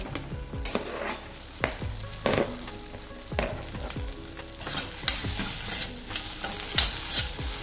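Okra frying and being stirred in a pan with turmeric for a home-style vegetable dish, with a steady sizzle and repeated scraping strokes of a spoon every second or so, close and alone with no talking.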